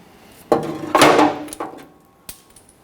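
Sharp metallic impacts of a corroded bolt being punched out of the frame behind the wheel of a 2006-2010 Hummer H3, with two heavy blows close together, a rattling follow-up, and a lighter tap after a pause.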